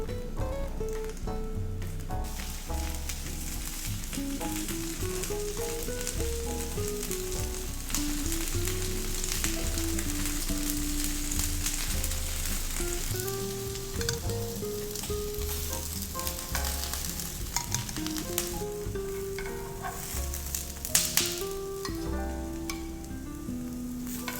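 Salmon dusted with potato starch pan-fries in a small amount of oil, crackling steadily and closely throughout with scattered pops, while no one speaks.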